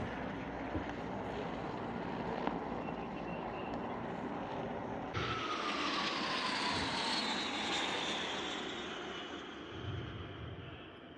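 A Bangladesh Air Force military aircraft flies past at a national day parade, its broad engine roar rising sharply midway and sweeping loud overhead before slowly easing off, with no speech.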